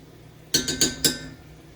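Butter going into a cast iron pan, marked by four quick metallic clinks of utensil against the pan in a short cluster, close and fairly crisp against a quiet background.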